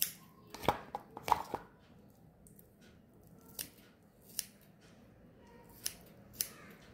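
Scissors snip banana peel into small pieces, a run of sharp crisp cuts clustered early then spaced out, close and fairly quiet with no talk.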